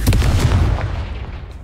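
A Confringo spell blast in Hogwarts Legacy, a single loud, close booming explosion with a sharp attack that rumbles and fades away over about a second and a half.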